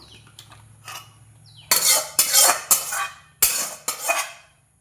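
Boiled banana flower and potato are tipped out of a pot, a series of loud, sharp metallic clanks and scrapes of a utensil against the cookware, close and distinct with short gaps between them.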